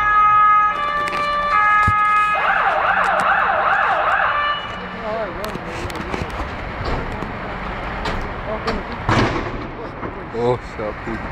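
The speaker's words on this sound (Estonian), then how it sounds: "nüüd tuleb tuletõrje." A fire engine's wailing siren rises and falls loudly for several seconds, then fades into general street noise with a few sharp knocks and background voices.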